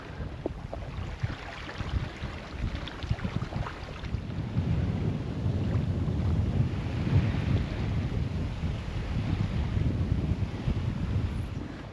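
A Hallberg Rassy 44 sailboat under way in light wind on the Mediterranean toward Corsica, with a steady rush of wind and water that swells louder after the first few seconds and continues without speech.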